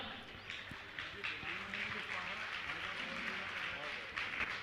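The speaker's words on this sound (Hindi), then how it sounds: "एक बार पुनः चाहूंगा इनके सम्मान के लिए ताली बजाएं आप" Audience clapping to honor donors at a Jain Chaturmas closing ceremony, a dense, steady patter of many hands sustained throughout at moderate level.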